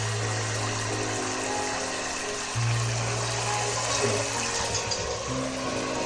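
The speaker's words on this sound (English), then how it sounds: "turn on your sink or whatever you're using, and you're gonna want to fill up your container" A sink tap runs steadily into a container being filled with water, a continuous hiss with a low humming undertone that shifts slightly as the level rises.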